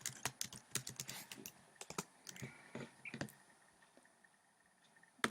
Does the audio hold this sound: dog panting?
no